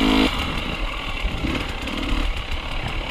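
A GasGas dirt bike engine out on a trail, a raspy two-stroke drone that rises and falls in short revs, fairly close and steady over three seconds with no talk.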